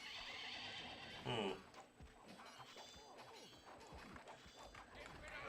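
Horses whinny and hooves clatter in the Knights and Merchants Remake strategy game, with a loud neigh near the start followed by busy clip-clop and battle noise throughout.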